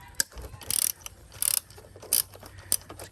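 A ratchet wrench loosens a 10 mm bolt on the 6G74 intake manifold of a 2003 Mitsubishi Eclipse GT, making four short bursts of close, sharp clicking separated by pauses, with no talking.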